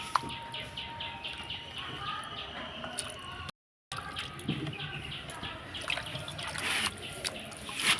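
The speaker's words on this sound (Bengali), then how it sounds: "এবার এগুলোকে পরিষ্কার করে ধুয়ে নেব।" Chopped chicken skin being washed in hot water in a home kitchen, with steady trickling and splashing of water, soft squishing as the pieces are rubbed, and a brief gap partway through.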